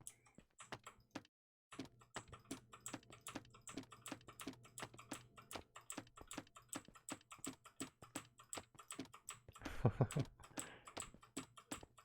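A computer keyboard clicks in quick, uneven bursts of keystrokes during live play of Lands of Zankar, with one short pause and a louder flurry of clatter near the end; the clicking is close but fairly quiet, with no voices.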